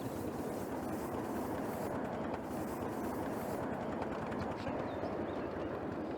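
Steam locomotive pulling away up the line on a small railway, a steady dense rumble and clatter of wheels and running gear with faint hiss, continuous and close.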